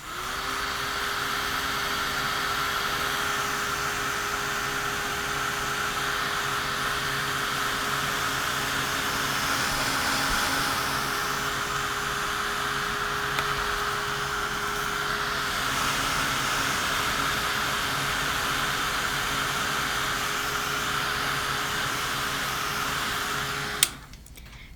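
A heat tool drying Distress ink dipped onto paper between colour layers blows a steady, loud whooshing hum with an even whine for about twenty-four seconds, then cuts off abruptly at the end.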